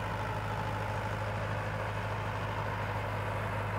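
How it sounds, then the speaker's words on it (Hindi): A Mahindra 585 tractor engine drives a rotavator at a steady 1500 RPM, giving a constant low diesel throb and hum that stays even throughout, with no talking. "रूटावेटर पे 1500 RPM पे सेट करके छोड़ दिया है"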